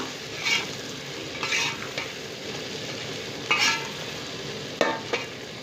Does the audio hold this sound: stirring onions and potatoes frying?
yes